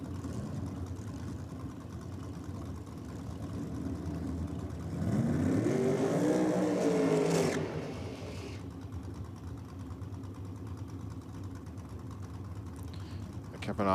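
Drag racing cars at a championship meet, a front-engine dragster against a Bantam Altered, idle and rumble, then a loud engine surge swells and rises in pitch before settling back to a low background drone.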